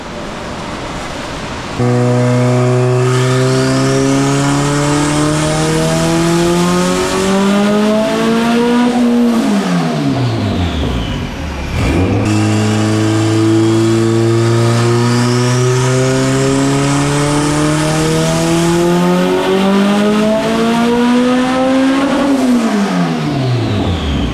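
Turbocharged non-VTEC Honda B18B1 engine on a dyno with a 3582 turbo, revving hard twice under high boost, each pull climbing steadily then dropping sharply, loud and alone without talk.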